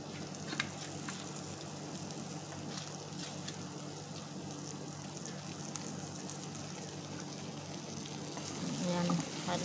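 Tomato sautéing and being stirred in a hot pan gives a steady, close sizzle with scattered scraping stirs throughout, a slightly louder burst near the end.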